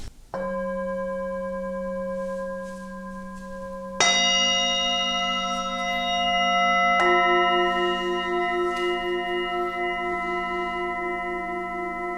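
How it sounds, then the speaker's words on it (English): Three clear bell tones ring one after another, each sustained and ringing out evenly, loud and close with no voices. "Let's begin with the bell ringing."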